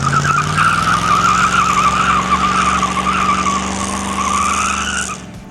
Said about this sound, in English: We're gonna have to fix that one-wheel peel in the future.